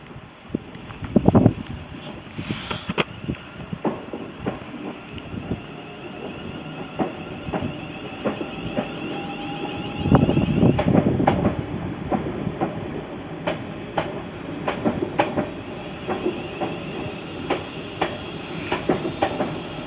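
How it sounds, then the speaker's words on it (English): A train crosses a bridge overhead with a sustained rumbling clatter of wheels, rhythmic clicks and faint squeals that swell and ease as the carriages pass. A brief voice is heard once. "perfect timing, a train going over"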